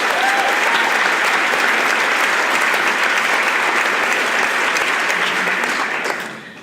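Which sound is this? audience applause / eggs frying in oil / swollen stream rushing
audience applause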